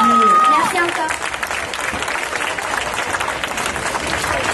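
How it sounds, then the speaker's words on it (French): Loud applause and crowd noise from an audience cheering singer Inès at a Kid's TV Tour concert in Gujan-Mestras, steady dense clapping that fills the space after a brief voice at the start. "je vous laisse avec elle encore pour l'applaudir une fois"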